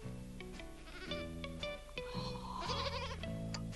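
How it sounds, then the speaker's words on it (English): Goats kept for milk bleat over and over in a garden, with wavering, nasal calls that overlap, close and fairly loud, with no talking. "Useful animals, goats, Jim."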